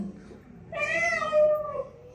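A child imitates a cat with a single drawn-out, rising and falling meow after a brief pause.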